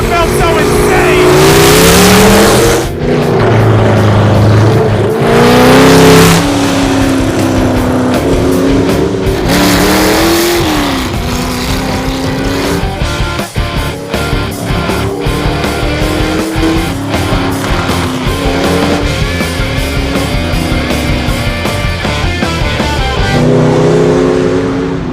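A hot rod with a 250 horsepower engine revs and accelerates hard, its loud engine note climbing and shifting pitch close by, with a sharp whoop at the start and voices under the engine.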